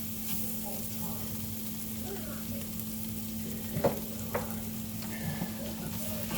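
Flour cooks in hot fat in a frying pan with a steady, close sizzle and frying hiss, plus occasional soft scraping from stirring.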